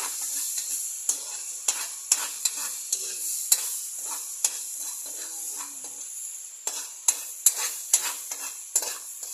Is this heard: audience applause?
no